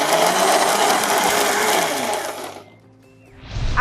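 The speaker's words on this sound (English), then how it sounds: "I put it in my blender. I'm going to add some water. All right, and I will blend this up." A kitchen blender pulverizing prawn shells in water, a loud steady whirring grind that runs for over two seconds, then stops and briefly spins back up at the end.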